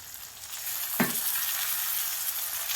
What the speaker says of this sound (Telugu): 1 స్పూన్ అల్లం వెల్లుల్లి పేస్ట్ వేసి కలుపుకోవాలి.